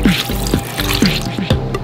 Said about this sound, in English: Then add some water.